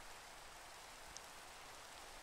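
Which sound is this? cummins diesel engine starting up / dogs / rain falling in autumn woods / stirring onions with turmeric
rain falling in autumn woods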